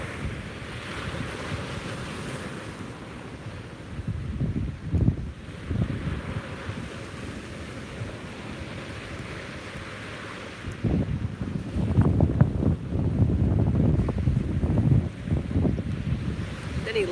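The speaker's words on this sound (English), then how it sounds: "the waves are making really nice noises this morning" Ocean surf rolls onto a beach in the morning at moderate strength, a steady wash of broken waves with two fuller surges building near the start and again toward the end, no voices over it.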